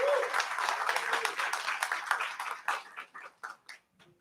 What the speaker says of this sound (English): And give a round of applause of our panelists